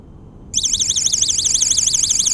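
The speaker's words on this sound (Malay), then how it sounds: "Alarm akan berbunyi dan lampu ni akan berkelip." A rechargeable USB camping lamp's alarm starts suddenly after a brief quiet moment and becomes a loud, shrill, rapidly warbling electronic tone that continues steadily.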